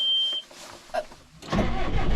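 On a French cattle farm, a farm tractor's starter whirs briefly after a steady warning beep, then the engine catches and settles into a loud, close, rumbling idle.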